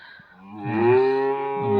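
On a farm, a nearby cow lets out a single drawn-out, low moo that swells in loudness and holds steady to the end.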